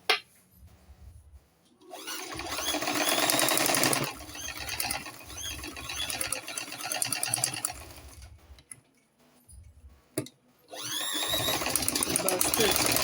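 A sewing machine stitches a long skirt with full lining in several bursts of fast whirring, starting and stopping with short pauses between runs, with faint handling noises in the gaps.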